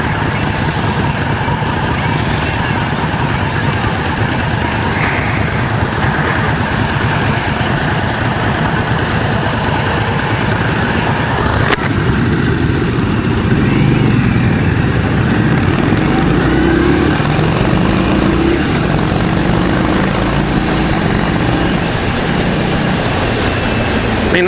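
An Indian Scout motorcycle engine running steadily, a loud, constant mechanical drone with a low throb and a slight shift in pitch partway through, heard alone.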